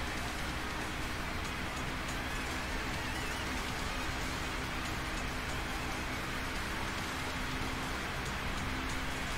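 Hail falls as weather in Pokémon Sword and Shield, a dense, steady hiss of pelting ice that runs unbroken throughout.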